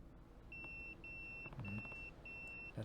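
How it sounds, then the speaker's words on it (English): A pager in the video game Yakuza 0 beeps in four short bursts of rapid electronic pips, evenly spaced over a faint low background hum. "That's my beeper."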